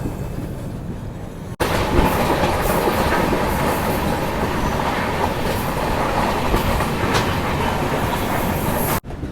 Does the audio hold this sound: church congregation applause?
no